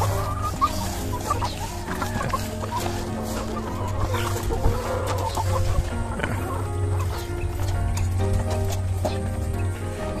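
Chickens in a backyard coop cluck and murmur steadily throughout, layered with soft rustling and a low continuous hum, the flock close by and busy.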